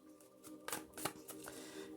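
Tarot cards being shuffled by hand before a Celtic cross reading, a close run of soft riffling and rustling with a few sharper slaps, alone with no talk.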